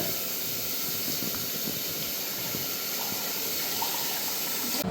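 Water poured into a hot pan of rice and cumin sets off a steady, loud hissing sizzle and bubbling that carries on unbroken for several seconds.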